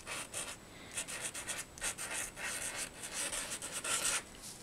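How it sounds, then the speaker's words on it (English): A liquid chalk marker with a chisel tip is drawn across a chalkboard in quick repeated scratchy strokes, close and soft, with brief gaps between strokes and no voices. "now this is the liquid chalks, and I'm going to do the chisel."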